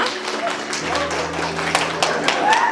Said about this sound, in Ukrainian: Саша, ваші оплески для Сашка.